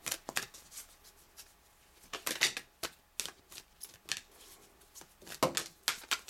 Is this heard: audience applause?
no